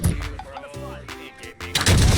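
A gunshot crack from a video game is followed by a burst of loud gunfire near the end, set against busy game sound effects.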